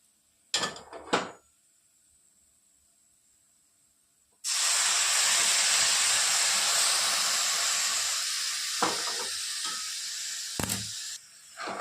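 Milk poured into a hot carrot and semolina barfi mixture sets off a loud, sustained sizzling hiss that begins suddenly midway, preceded by a few brief clatters and later utensil knocks.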